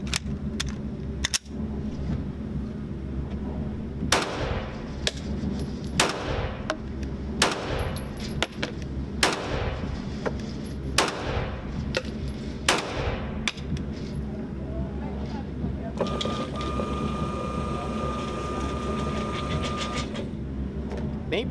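About ten sharp shots from a Smith & Wesson M&P9 M2.0 9mm pistol ring out one after another at steady intervals, loud and close, with a hum of background noise and some talk.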